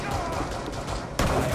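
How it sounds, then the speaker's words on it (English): Sustained gunfire from a Rainbow Six Siege match, fired at a floor to break through it, forms a dense, continuous rattle with a sharp jump in intensity partway through. "shoot the floor again"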